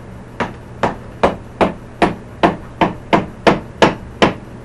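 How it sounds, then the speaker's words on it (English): A rubber hammer taps the engine housing of a Honda Rancher 350/420 ATV during a 2x4 to 4x4 conversion, about eleven evenly spaced, fairly loud thuds over a low steady hum, with no talking. "Next, we're going to take a rubber hammer."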